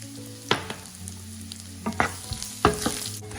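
Shallots, ginger and green chillies frying in a pan for tomato stew, a steady close sizzle broken by a few sharp scraping stirs, no voices.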